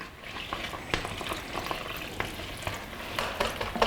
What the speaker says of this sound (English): I'm going to mix this all together.